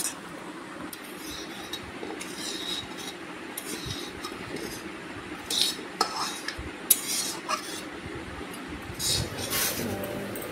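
Chicken liver rekabi being stirred and sautéed in a pan: repeated metallic spoon scrapes and clinks against the pan over a low continuous sizzle, close and irregular, with no talking.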